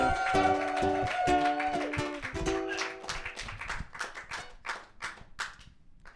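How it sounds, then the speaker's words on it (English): A comedy show audience claps for comedian Brian Milligan, first under music with a held tone, then thinning into scattered individual claps. "I want y'all to start clapping right now for Mr."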